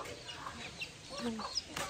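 A red chicken clucks softly in short, scattered calls at a farm, faint and somewhat distant, with a few brief higher chirps mixed in.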